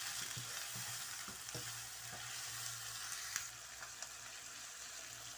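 Chana masala, made with chickpeas, fries and is stirred in a pan, giving a steady sizzle with soft scraping and light clinks of the spoon throughout, close and moderately loud, with no voices.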